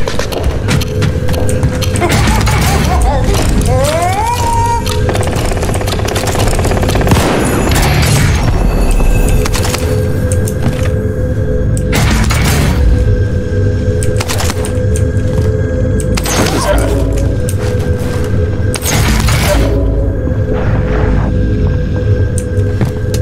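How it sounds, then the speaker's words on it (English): Mortar launcher explosions in a video game sound as repeated heavy booms and thuds at irregular intervals, mixed over dense game noise and a constant electronic drone, loud and busy throughout. "I just picked up a mortar launcher"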